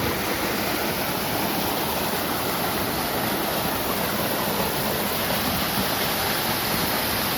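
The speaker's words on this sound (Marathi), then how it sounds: "पाण्याचा खळखळाट ऐका फक्त" Small waterfalls gushing and gurgling outdoors after heavy rain, a steady, loud, broadband rush of water running without a break and with no voices.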